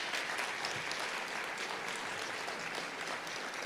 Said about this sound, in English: So let's give everybody in this room a round of applause,